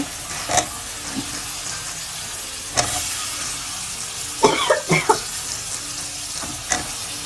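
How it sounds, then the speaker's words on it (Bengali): A masala spice paste sizzles softly in oil while a spoon scrapes and knocks against the pan, giving a low continuous frying hiss broken by irregular stirring clatters. "আমি মশলাটা ভালোভাবে কষিয়ে নিচ্ছি দেখেন মশলা থেকে তেল ছেড়ে দিচ্ছে"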